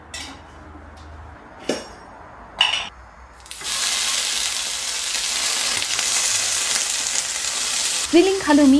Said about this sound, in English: Grilling halloumi on a small pan from all sides